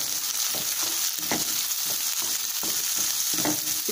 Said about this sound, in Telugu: ఇప్పుడు ఇందులో మనం క్యాబేజ్ అలాగే క్యారెట్ ఈ రెండు కూడా మనం ఫ్రై చేసుకుందాం.